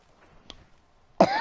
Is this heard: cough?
yes